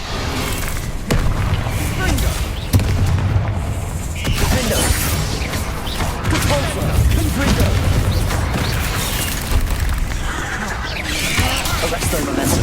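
Confringo spell blasts in Hogwarts Legacy, heavy booming impacts and crashing debris hitting repeatedly over a dense, loud backdrop of game combat noise.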